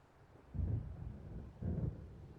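Distant thunder from an approaching storm in Alan Wake, two soft low rumbles about a second apart rising out of a quiet windy background.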